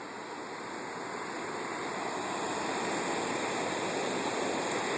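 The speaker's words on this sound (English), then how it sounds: "St. John's Reversing Falls." Water rushes continuously at the Reversing Falls on the Saint John River in New Brunswick, a broad, steady roar that builds slightly and holds without voices.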